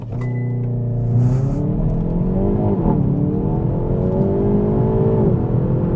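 A 2022 Hyundai i30 N with dual-clutch gearbox launching hard under launch control, the engine roaring loud and close as revs climb, dip sharply at a quick upshift, then climb again, no voices.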